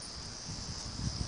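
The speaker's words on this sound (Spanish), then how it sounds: "Grillo, suena otra vez." A steady, high-pitched insect trill of a cricket continues throughout, fairly faint and close, with some low rumbling and light handling noise beneath it.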